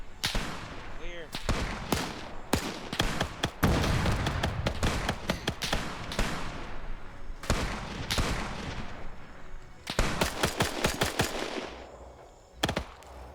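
Machine-gun bursts and single rifle shots crack through a Korean War airfield assault in a video game, dense rattling volleys broken by short pauses, loud and close.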